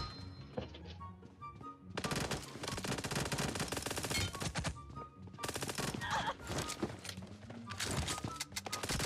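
Dense automatic gunfire from the PUBG Mobile game in a 1v1 team deathmatch, with long sustained bursts of rapid shots and brief pauses between volleys, loud and continuous through most of the stretch.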